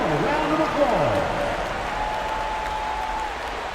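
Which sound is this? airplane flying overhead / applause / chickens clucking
applause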